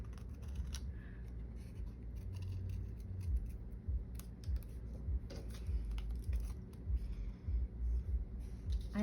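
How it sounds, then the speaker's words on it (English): Scissors fussy cutting leaf shapes out of paper for a card, close and quiet, with repeated small snips and soft paper rustles in an irregular rhythm, no talking. "I usually just grab my scissors and get it done."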